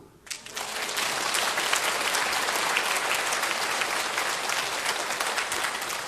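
A large church congregation breaks into loud, sustained applause during a sermon, starting abruptly and continuing steadily to the end.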